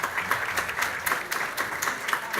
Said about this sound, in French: Bon main d'applaudissements, s'il vous plaît.